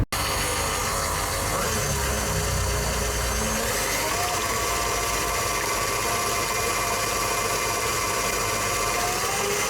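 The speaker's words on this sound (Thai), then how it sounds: "แล้วก็จะเปิดเครื่องเบาๆ แล้วก็ค่อยๆ เร่งขึ้นเร่งขึ้น ตีผสมให้เขาเข้ากันค่ะ" Electric hand mixer beating eggs with durian for a no-bake durian cake, a steady loud whirring drone that continues throughout.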